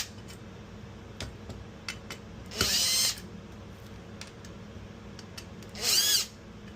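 A power driver backing screws out of an ESD coin slide, with two brief whirring bursts a few seconds apart among faint clicks and handling noises, close and fairly quiet.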